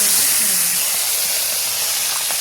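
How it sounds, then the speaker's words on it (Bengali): Small rohu fish pieces rubbed with salt and turmeric fry in hot oil with a loud, continuous, close-up sizzle and no pauses. "এখানে মাছ ভাজা হয়ে গেছে"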